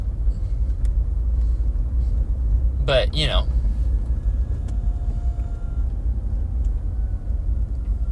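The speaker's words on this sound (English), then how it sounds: "this time I'm driving back from Irvine" A low, steady engine and road rumble fills the inside of a moving car on a drive back from Irvine, with a brief burst of speech partway through.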